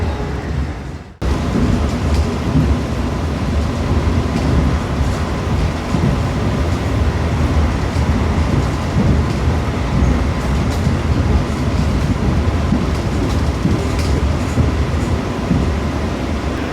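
Rumble and rattle of a train slowing as it nears Bekasi station in Indonesia, a steady loud rolling roar with faint wheel clatter that continues throughout after a brief quiet start.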